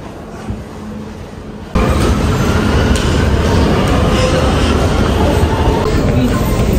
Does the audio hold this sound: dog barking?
no